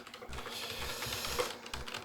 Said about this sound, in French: je sais pas si on entend bien les bruits du clavier